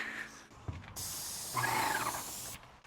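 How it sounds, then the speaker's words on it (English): A paint sprayer blasts a loud, steady hiss after its clogged tip is spun around and cleared. The spray runs close for about a second and a half and then cuts off, with handling noises before it. "You just spin the tip around and shoot the clog out, hopefully."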